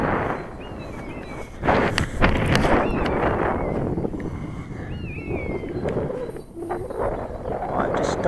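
Strong outdoor wind buffets the microphone in rough, continuous low rumbles and gusts, loud and close, while someone talks over it.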